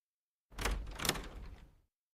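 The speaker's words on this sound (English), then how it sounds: "Can you please open the door?" A single door swings open with a short sliding, rumbling sweep lasting just over a second, close and fairly loud, alone against silence.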